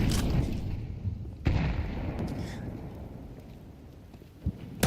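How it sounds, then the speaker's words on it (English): A flashbang grenade going off in Counter-Strike 2 gives sharp, loud bangs, one at the start and another about a second and a half later, each decaying into a hissing wash, with small pops near the end. "Flashbang here really quick"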